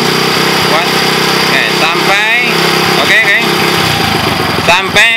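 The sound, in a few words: motorcycle engine being revved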